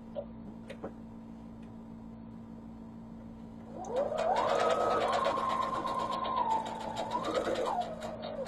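A sewing machine stitches a quilt seam, a faint ticking hum at first that swells into a steady, fairly close whirring run of several seconds before easing off.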